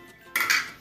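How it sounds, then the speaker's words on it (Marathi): A metal kadhai is set down on a gas stove with one short, bright clank of metal on metal that rings briefly before fading, loud and close. "हे गॅसवर मी कढई ठेवलेली आहे"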